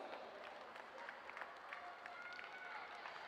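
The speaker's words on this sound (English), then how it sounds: "Let's give the GUT a round of applause." An audience claps at the opening ceremony of a primary school games event, a faint, distant wash of applause with scattered crowd noise.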